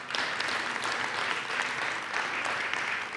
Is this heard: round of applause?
yes